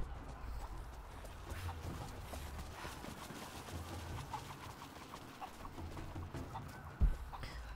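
Chickens cluck in the Rise of the Tomb Raider video game, short soft clucks scattered over a steady low game ambience, with one brief louder thump near the end.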